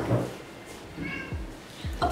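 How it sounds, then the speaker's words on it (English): A house cat gives a few short, faint meows indoors while trying to open a door handle, with light knocks between them in a quiet room. "my cat is trying to open the door somewhere"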